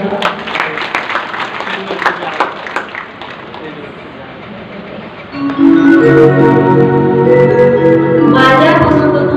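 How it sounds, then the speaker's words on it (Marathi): A religious storytelling gathering's audience claps loudly in a burst of rhythmic hand claps. The clapping fades after a few seconds, and sustained devotional music with tonal instruments swells in to take over. "त्यांच्यासाठी एकदा जोरात टाळी वाजवा"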